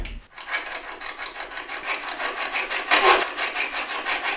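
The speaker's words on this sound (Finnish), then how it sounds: "Tää Spirit Box skannaa semmosia taajuuksia ja yrittää sieltä saada kuuluviin henkien tuottamia tai manipuloimia ääniä" A Spirit Box sweeps through radio frequencies, giving a harsh, rasping burst of static that stutters as it scans. The noise is loud and continuous with a brief surge near the end, and no voices come through over it.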